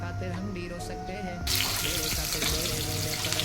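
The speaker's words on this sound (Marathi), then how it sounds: "तेल छान गरम झालेलं आहे। ह्याच्यामध्ये कांदा घालून घेते।" Onion goes into hot oil for a Konkani dry kolim recipe, and a broad hiss of frying bursts in halfway through and carries on loudly to the end.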